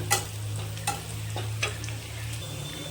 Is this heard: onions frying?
yes